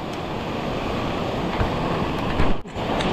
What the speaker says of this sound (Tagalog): biglang rumagasa ang tubig